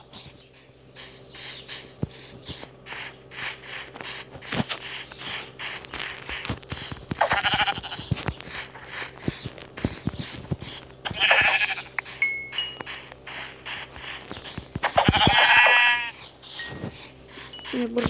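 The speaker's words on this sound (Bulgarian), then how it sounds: "Няма нищо, тук има овци." Sheep in the video game Minecraft bleat several times, each bleat clear and fairly loud over steady clicking and mechanical game sounds, with occasional talk.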